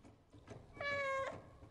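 A cat in the PS5 game Stray gives one clear, drawn-out meow at close range over a quiet game soundscape.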